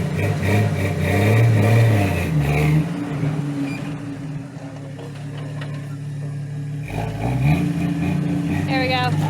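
A Jeep Wrangler, one of a Willys JL and a 4.0L TJ, stuck off-road with its differential hung up, its engine revving loud and strained in surges while voices talk over it.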